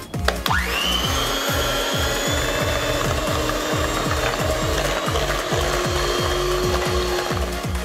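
An electric mixer whirs steadily as it beats sugar, vanilla and cinnamon for an apple cheesecake, with a rhythmic ratcheting clatter of the beaters against the bowl close by and no talking.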